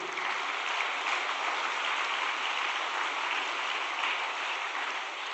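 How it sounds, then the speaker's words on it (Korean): A large audience gives sustained applause at a gathering. The clapping blends into an even, rain-like wash heard from some distance, with no voices on top. "박수 한번 올려드립시다."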